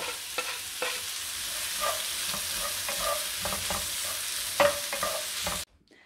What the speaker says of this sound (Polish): Na rozgrzaną oliwę wrzucamy cebulkę. Będziemy ją podsmażać parę minut do zrumienienia się